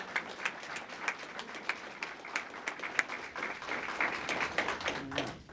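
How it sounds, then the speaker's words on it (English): Steady applause from a crowd honoring police officers at a December 2024 police awards ceremony, dense clapping with sharp individual claps poking through, sustained at an even level throughout. "round of applause to my guys"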